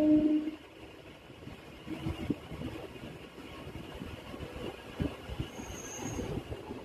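A Lalgola–Ranaghat local train passes on the line near Ranaghat, its wheels rumbling and clattering in a steady rhythm with a brief squeal, fairly quiet and moderately near, with no voices.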